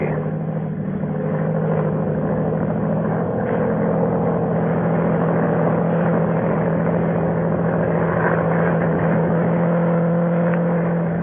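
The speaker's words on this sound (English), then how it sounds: "Low down in the south, a monoplane was climbing into the heavens." A monoplane's propeller engine drones steadily as it climbs overhead in a vintage radio drama effect, a loud, continuous, slightly wavering hum that never drops away.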